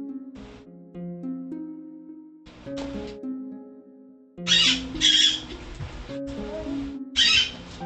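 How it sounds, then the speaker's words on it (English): A bird in the video game Rakuen gives soft, steady hooting calls over calm game music, followed by louder bursts of sharper sound from the game. "Hush up, bird."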